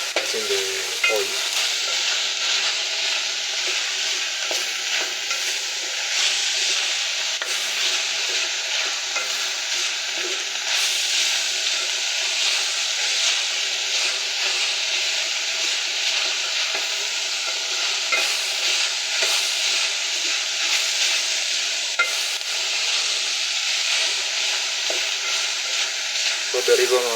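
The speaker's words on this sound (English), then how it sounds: "So we are browning the onion inside." Onions browning in a little frying oil for spaghetti bolognese, a dense steady sizzle that holds close and loud throughout, with faint stirring touches and no talking.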